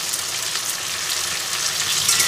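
Two medium tomatoes frying with onions in a pan for a Bengali prawn malai curry, giving a steady, bright sizzle that holds throughout and grows slightly louder toward the end, with no talking.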